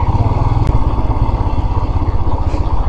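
A motorcycle rides near the India–Nepal land border, its engine a steady, close, rhythmically pulsing drone for the whole stretch with no voices.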